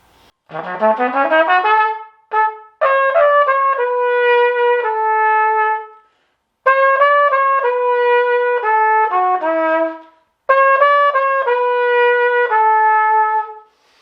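A trumpet plays a quick run of notes, then several faster phrases with brief gaps between them, bright and clear with no voices.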